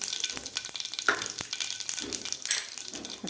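Cumin and mustard seeds in hot oil for a pea and spinach vegetable dish, popping and crackling with a soft close sizzle and irregular sharp little bursts, no talking.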